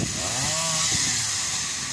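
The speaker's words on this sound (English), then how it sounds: "A man in a tree with a chainsaw." A chainsaw runs high up in a tree during tree felling in Cape Town, South Africa; a steady buzzing engine drone with slight pitch shifts, moderately near, no talk.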